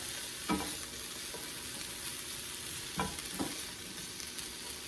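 Green pepper and onion sizzle steadily in a frying pan, a continuous close hiss with a few brief stirring scrapes, no talking.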